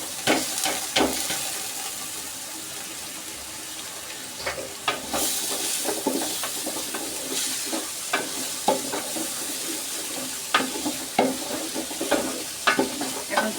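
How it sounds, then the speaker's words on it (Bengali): Soaked, drained polao rice frying with browned onions in a pot over medium heat: a steady hissing sizzle broken by frequent scraping stirs that grow busier and louder toward the end, with no voices. "এখন চুলার আঁচটা মাঝারি রেখে আমি চালটাকে ভালোভাবে ভেজে নিব ঝরঝরে করে।"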